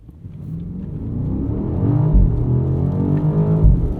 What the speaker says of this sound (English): let's stop and we'll do a quick acceleration